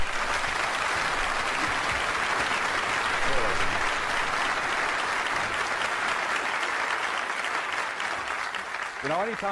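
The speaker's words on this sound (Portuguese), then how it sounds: "Então vamos dar a John uma grande salva de palmas, de boas-vindas, enquanto ele sobe ao palco" A seminar audience gives a big, steady round of applause as a speaker walks onto the stage, a dense wash of clapping that continues throughout, with a voice speaking over it.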